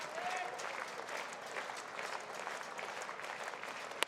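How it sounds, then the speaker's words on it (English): A baseball crowd at a Winnipeg Goldeyes vs. Fargo-Moorhead Redhawks doubleheader cheers and applauds in a steady, dense roar through the whole stretch. A short whistle rises near the start. "Crowd getting into it now."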